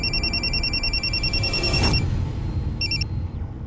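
A mobile phone rings with a rapid electronic beeping ringtone, repeating in short bursts, then stopping and starting again briefly, over a constant broad background hiss.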